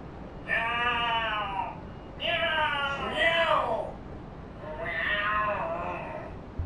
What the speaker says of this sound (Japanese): なんだ、猫の喧嘩か。